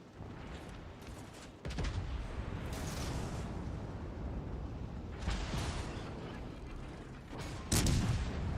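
Warship guns fire in the naval video game World of Warships Legends: heavy, booming salvos with rumbling mechanical noise, big blasts near the start, middle and end over a dense, continuous low roar.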